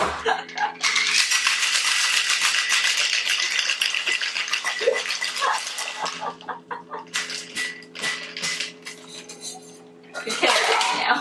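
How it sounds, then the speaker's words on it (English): Continuous rattling of ice inside a cocktail shaker, loud and steady for several seconds, then choppier bursts, with people talking over it near the end. "So then we're gonna shake it with some ice. Shake some ice."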